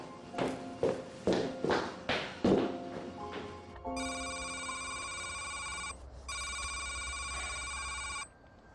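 A telephone rings in two long electronic bursts with a short gap between them. Several footsteps come before the ringing starts. No one speaks.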